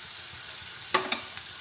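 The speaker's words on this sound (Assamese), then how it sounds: "এতিয়া মই ইয়াতে বিলাহী পেষ্টখিনি দি দিম।" Tomato paste hitting a hot pan for a chili curry, a brief soft sizzle and a couple of quick crackles over a steady faint frying hiss, close and quiet.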